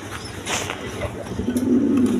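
A pair of large Indian Bombay pigeons coo nearby, low rolling coos building toward the end, with someone talking over them.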